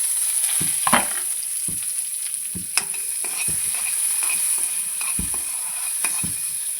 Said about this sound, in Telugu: ఇదిగో పోపు దినుసులు ఏగుతున్నాయి.